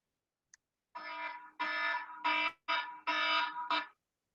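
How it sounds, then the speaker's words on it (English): A trading price alert alarm sounds loud and close as a series of about six harsh buzzing electronic bursts in a steady rhythm, separated by brief gaps. "That's an alarm. That's one of my trading alarms."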